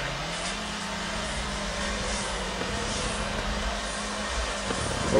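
Cars drift in the FR Legends racing game at IWD Speedway, a continuous droning engine roar with a slowly shifting pitch, steady and loud throughout, no speech.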